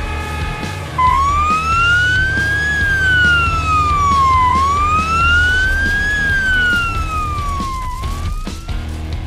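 An emergency vehicle siren, ambulance or fire engine, sweeps up and down in a loud, slow wail that repeats about three times over a low engine rumble.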